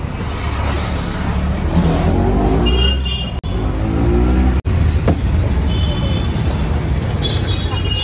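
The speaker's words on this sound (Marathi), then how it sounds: "फुल ट्रॅफिक जाम होते, फुल ट्रॅफिक जाम." A traffic jam on a road in Palghar produces a steady, close roar of cars and other vehicles with engine rumble throughout, and faint voices mixed underneath.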